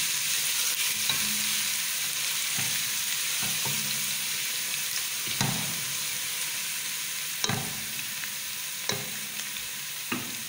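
Chicken and potato shorba base cooks in a pan with a steady broadband sizzle, broken by repeated spoon scrapes and stirs at irregular intervals, close and fairly loud, with no talking.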